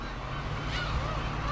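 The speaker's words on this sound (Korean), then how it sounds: "괭이 갈매기입니다." Black-tailed gulls call over the sea during the saury spawning season, drawn out mewing cries rising over a steady wash of water and wind.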